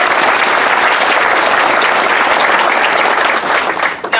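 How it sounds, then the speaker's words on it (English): Sustained audience applause in a hall after a speech, a dense wash of clapping holding steady and loud, then tapering off near the end. "Could we give them a round of applause, please?"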